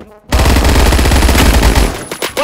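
A loud, sustained burst of rapid machine-gun fire from a PPSh in Roblox Phantom Forces starts abruptly after a brief quiet moment and rattles continuously, close and dense, before tapering into a few last shots.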